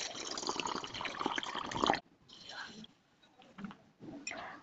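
Neem flowers are washed by hand in a vessel holding a little water, producing a dense, close sloshing swish for about two seconds, then quieter intermittent splashes and rinsing.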